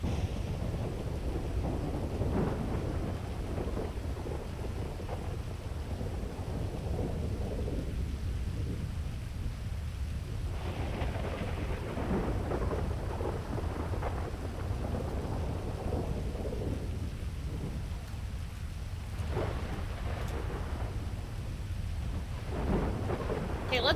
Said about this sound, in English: Let's just vibe to the rain.